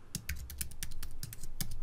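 Quick bursts of typing on a computer keyboard, crisp clicking keystrokes in an uneven rhythm, close and alone.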